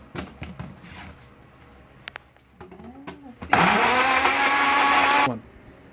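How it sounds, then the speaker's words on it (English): Countertop blender whirring through restaurant-style salsa ingredients with salt added, a loud steady motor roar lasting about two seconds that stops abruptly, after some clicks and handling noises. "Okay, now it's done blending."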